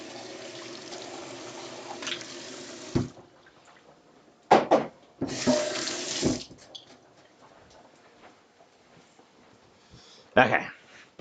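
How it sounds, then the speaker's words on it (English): A kitchen tap runs steadily while hands are washed after mincing a habanero, the flow cut off abruptly, followed by scattered clunks and rinsing splashes; someone talks over parts of it. "Okay, hands washed"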